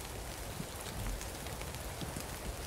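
Steady rain falls as a constant, even hiss of drops with no pauses, moderately close and alone without voices.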